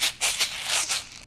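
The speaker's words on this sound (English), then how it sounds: "one man's popcorn is another man's maracas. Shake it, Sarah." A jar of popcorn kernels shaken like maracas gives bursts of bright, gritty rattling in uneven shakes, close and fairly loud, with no voices over it.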